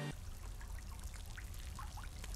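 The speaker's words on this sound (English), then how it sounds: "I can hear all the water drops in my headset right now." Water drips and trickles in the Daylight horror game, with scattered faint drops over a low, steady background rumble.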